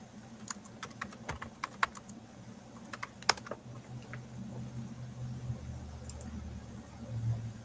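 Someone types on a computer keyboard, producing quiet, irregular clicking keystrokes in short bursts over a low background hum, with no talking.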